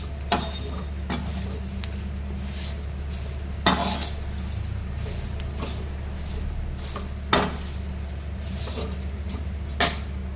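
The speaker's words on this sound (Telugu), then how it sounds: "ఇట్లా 2 మినిట్స్ వేయించాలి." Flattened rice (atukulu) is fried and stirred in a pan, producing a constant close sizzle with occasional louder scrapes and clinks of a utensil against the metal.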